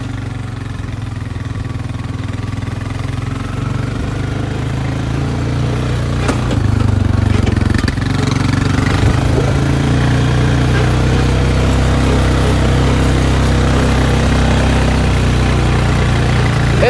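Honda Rancher 420 ATV towing a load in second gear, its engine a steady low labouring drone that grows louder partway through, with faint rattles and bumps over it.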